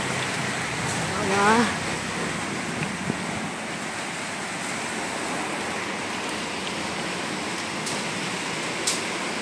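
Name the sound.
heavy rain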